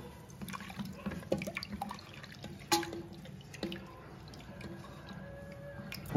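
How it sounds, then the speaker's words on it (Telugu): Water is added to Nellore-style tamarind lentil broth, pappu charu, heard as scattered drips and light splashes with a few sharper plops, quiet and close. "కొద్దిగా వాటర్ను కూడా యాడ్ చేసుకోండి"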